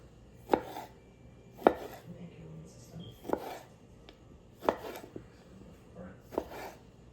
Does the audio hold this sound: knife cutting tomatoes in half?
yes